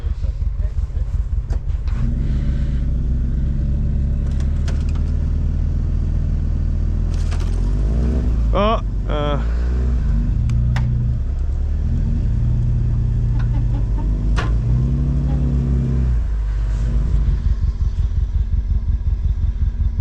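A stuck side-by-side off-road vehicle's engine runs steadily in low gear at minimal throttle, a loud continuous low rumble with slight rises in revs, while people talk over it nearby.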